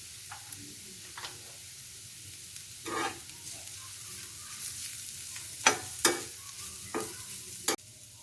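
Grated radish and green chilli frying in oil for an omelette, a steady low sizzle with several sharp scraping stirs and clinks of a utensil against the pan, with no voices.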